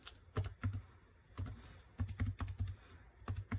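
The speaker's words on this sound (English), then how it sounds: "Typed it into my calculator wrong" Keys tapped on a calculator while entering numbers, a series of short, close clicks in uneven bursts with brief gaps, alone without talk.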